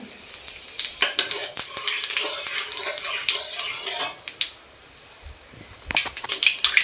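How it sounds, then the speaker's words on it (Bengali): Dry red chili and cumin seeds dropped into hot oil for a Bengali mocha chingri ghonto, crackling and spitting up close with clinks of a utensil against the pan, a brief quiet spell, then more sizzle. "এবার আমি একটা শুকনো ঝাল এবং কটা জিরে ফোড়ন দেবো।"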